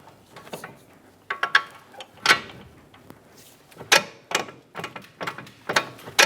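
Ratchet wrench clicking while starting the lower strut-to-knuckle bolt on a 2010-2015 Lexus RX350 front strut assembly, heard as irregular bursts of sharp mechanical clicks separated by short pauses, close and moderately loud.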